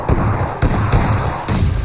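Heavy booming bomb and molotov explosions and thuds in PUBG/BGMI in quick succession, loud and close, with dense rumbling between the blasts.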